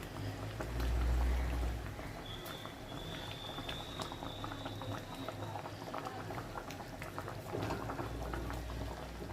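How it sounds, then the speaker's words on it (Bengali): Curd-based rohu fish curry gravy bubbles in a pan, a soft continuous popping and simmering close by, with a low rumble near the start. "দেখুন, ঝোলটা ফুটে গেছে, এইবারে মাছগুলো তুলে দেবো।"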